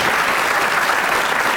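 An audience claps in a dense, even burst of applause, filling the brief moment with no voices over it.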